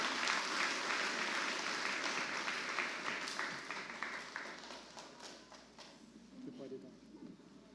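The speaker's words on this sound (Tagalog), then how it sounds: "Malakas na palakpak po sa Panginoon." Church congregation applauding at a Sunday worship service, a dense steady clapping that is loud at first and gradually thins and fades over several seconds.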